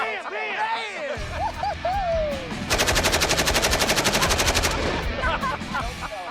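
A machine gun fires a rapid sustained burst of evenly spaced shots at a shooting range, loud and close, with voices and background sounds before and after the burst.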